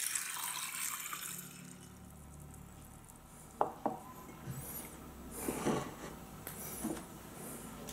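Water is poured into a bowl of corn kernels: a soft, fairly faint splashing and trickling, with a few small knocks of the container, close by and without speech.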